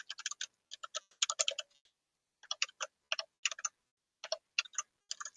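Fingers type on a computer keyboard in quick clustered bursts of crisp, close key clicks, separated by short pauses, with no talk over them.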